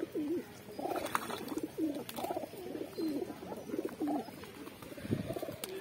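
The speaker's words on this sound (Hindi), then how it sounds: "अरे ये कितने सारे कबूतर नहाने बैठ गए हैं देखिए" Pigeons coo repeatedly in a loft while bathing, a steady run of low, rolling calls from several birds close by, with occasional wing flutters and background noise.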